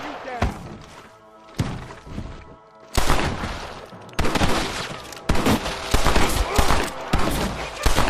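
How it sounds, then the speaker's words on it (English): Gunfire in the Western video game Red Dead Redemption: several loud bursts of repeated shots with heavy thuds, separated by short quieter gaps and mixed with voices. "Let's shoot the hell out of these cowards!"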